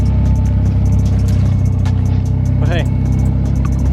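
A 1991 Mitsubishi Eclipse GSX engine running steadily, a loud continuous low rumble with rhythmic clicking, heard under a brief spoken remark.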